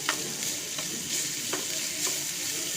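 Light stirring of Chinese style vermicelli in a hot pan, pancit-inspired, with a steady sizzle and soft scraping strokes recurring every half second or so, close and unaccompanied by voices.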